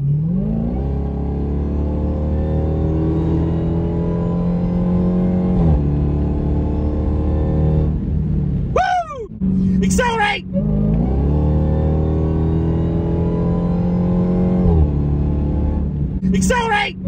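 A 2023 Dodge Demon 170 accelerates hard in repeated loud pulls, its engine note climbing in pitch through each gear with short breaks between shifts, with brief excited shouts cutting in.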